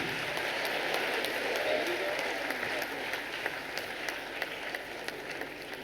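Sustained applause from an audience at the Maharishi birth centenary celebration in Hyderabad, a dense steady wash of many hands clapping with occasional louder claps, moderately distant and without talk.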